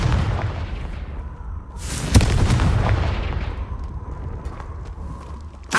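A Confringo fire spell in Hogwarts Legacy: one loud explosive boom at the blast, with a rumbling roar around it, a lighter pop at the very end, and no talking.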